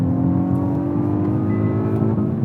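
A hot hatch engine revs up loudly and steadily, its pitch climbing smoothly with a droning, zingy tone.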